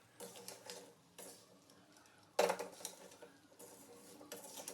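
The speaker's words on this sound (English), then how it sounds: "Stir continuously on low flame only." Sugar stirred in a pan over a low flame gives repeated scraping and clinking of a utensil against the metal, close and quiet, with one sharper knock partway through.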